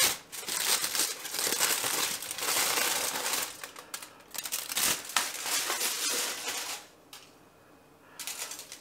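Recyclable foil wrapper being peeled off a chocolate biscuit bar, a close, busy run of crinkling and tearing that continues for several seconds, with a brief quieter pause near the end before the rustling resumes.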